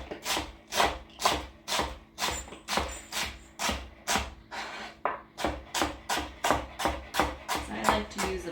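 A knife chopping greens on a cutting board, steady rhythmic knocks repeating about twice a second, close and clear, with a short pause midway before the chopping resumes.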